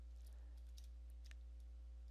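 Keys typed on a Dell Latitude 5520 laptop keyboard: a few light, scattered clicks over a steady electrical hum, with no voices.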